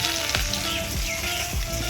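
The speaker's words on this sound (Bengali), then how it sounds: "মাছ ভাজছি" Small fish fry in a pan with a steady crackling sizzle close up, punctuated by a few sharper spattering pops at regular intervals, no voices.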